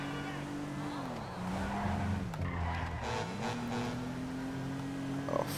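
Volkswagen car in Grand Theft Auto 5 skidding with a long tire squeal that bends down and back up as the car slides, over a steady engine drone, fairly faint in the mix.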